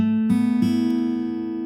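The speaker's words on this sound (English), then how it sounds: "So our first chord, we're going to strum down." A ringing acoustic guitar chord strummed downward sustains, with a couple of fresh string attacks re-striking it before it fades slowly.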